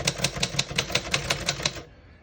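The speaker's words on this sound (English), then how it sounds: "go back and finish typing" Rapid, steady key strikes on a 1964 Remington Premier portable typewriter, about a dozen crisp mechanical clacks close up in even rhythm, then stopping, with no talk.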